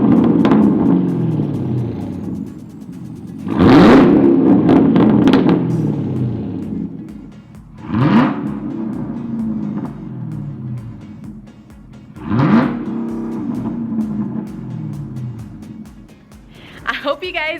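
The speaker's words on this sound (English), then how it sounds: "just rev it a few times so you guys can hear" A Mustang Shelby GT350's V8 engine is revved three times at idle, each blip rising to a loud roar then falling back to a deep burbling rumble.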